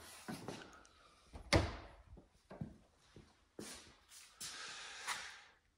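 The rebuilt entry door of a vintage Shasta travel trailer is swung back and forth, producing a series of nearby knocks, thuds and rattling clunks spaced irregularly over several seconds.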